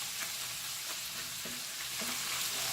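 Ground beef fries in bacon and hamburger fat, a steady close sizzle with a few soft scraping stirs of a spatula across the pan, and no one speaking.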